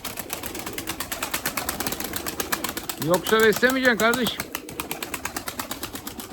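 An Erzurum white pigeon coos close by in a loft, a short run of rolling coos in the middle while someone talks and steady rhythmic ticking runs throughout.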